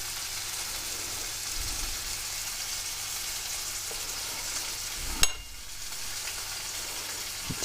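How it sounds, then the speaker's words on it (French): Pork tenderloin (filet mignon de porc), cooked sous vide beforehand, sears in a hot pan with a steady, bright sizzle and a brief sharp crackle midway. "j'ai fait revenir ma viande juste sur toutes ses faces"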